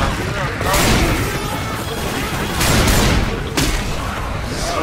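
Rapid gunfire in the video game Left 4 Dead 2, a loud, dense, continuous stream of shots with heavy booming bursts, shouting voices mixed in.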